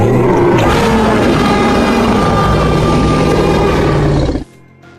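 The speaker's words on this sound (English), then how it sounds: "The woolly mammoth made deep, powerful sounds, similar to elephants, low rumbles and heavy trumpets." Deep, powerful rumbling roar attributed to a woolly mammoth, loud and sustained for several seconds before cutting off abruptly near the end, with no talk over it.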